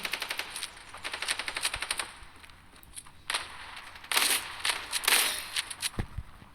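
Machine gun fire from the Standoff 2 video game, with rapid bursts of automatic shots, a pause, then further loud bursts and a couple of single cracks near the end.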